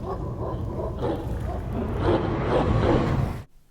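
Dogs barking in the video game Ace Combat 7: Skies Unknown, a dense run of yips and barks with some whimpers over a steady background roar, building slightly louder before cutting off abruptly.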